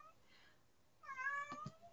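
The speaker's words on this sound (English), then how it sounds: "this cat, he always does this every time I start recording" A house cat meows nearby indoors, a faint whine first and then one loud, drawn-out meow over a quiet room.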